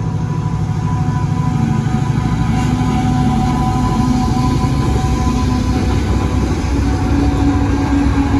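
Freightliner Class 70 locomotive 70012 hauling a test train past on a test track, a loud steady low rumble and heavy engine drone with rail noise, continuous and close throughout.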